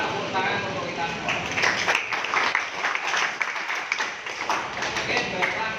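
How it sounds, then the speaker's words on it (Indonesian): A classroom of students in Indonesia claps together after group presentations, uneven overlapping claps that swell and fade, with some voices and chatter mixed in. "kita tepuk tangan untuk kita semua"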